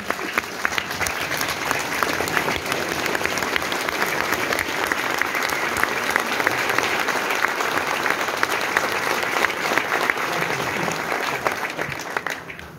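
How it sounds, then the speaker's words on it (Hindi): Sustained standing ovation from a large audience at a talk in Haldwani, dense steady clapping at full strength for about twelve seconds with a faint crowd murmur underneath. "इनके लिए खड़े होकर तालियां।"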